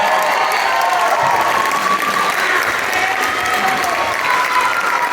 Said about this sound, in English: let's give those guys another round of applause